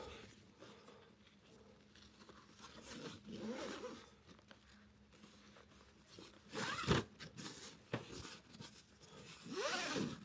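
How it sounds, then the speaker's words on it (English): A nylon strap is pulled through the loop of a Badlands Vario65 rifle carry system, making soft, close zipping and scraping rasps in a few uneven pulls against quiet handling noise. "I like to just go down through that loop, then pull the strap through"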